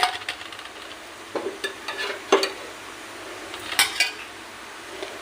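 Onions tipped into hot oil in a kadai hiss and sizzle, with a few sharp clinks of a utensil against the metal pan, close and without speech.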